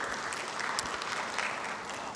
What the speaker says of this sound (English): to give a round of applause for the organizers of this forum.